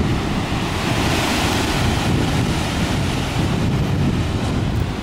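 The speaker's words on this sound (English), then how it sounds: "the water goes through there and comes out there in a blowhole" Sea water churns and surges through a blowhole at the pancake rocks, producing a continuous loud roaring wash mixed with wind buffeting the microphone.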